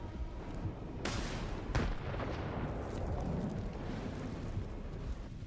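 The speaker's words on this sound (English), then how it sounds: "That's definitely a grenade." A grenade blast in STALKER 2 arrives as a broad, fairly distant boom over a continuous rumbling bed of game ambience, with a second fainter thud shortly after and no voices.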